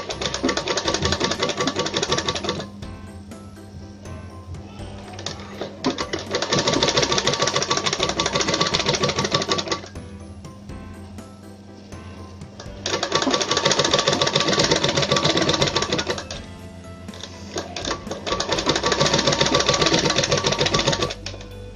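An electric sewing machine stitches a saree corner in fast, steady bursts of whirring, clattering needle strokes, stopping and restarting several times with brief, quieter pauses between runs.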